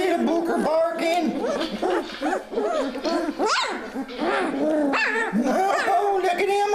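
A golden puppy barks and yips repeatedly in high, squeaky bursts, close and fairly loud, with whimpering mixed in among the litter.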